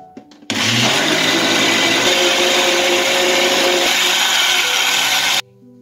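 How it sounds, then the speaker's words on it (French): An electric blender mixes crêpe batter of milk, egg and a pinch of salt, switching on with a sudden loud, steady whirring roar that holds for about five seconds and then cuts off abruptly, close by with no talking. "Là je vais commencer à mixer."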